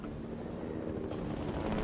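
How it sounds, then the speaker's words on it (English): Helicopter rotor thrum from a multiplayer video game battle, a steady close drone that holds at even loudness throughout, with the pitch of the engine whine rising slightly toward the end. "There's another helicopter coming. Right behind us."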